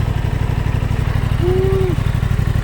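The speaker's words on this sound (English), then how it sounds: "Let's give it a cold start." A 2022 Aprilia Tuono 660 Factory motorcycle idles just after a cold start, a loud, close, steady pulsing engine rumble with a brief faint whistle-like tone partway through.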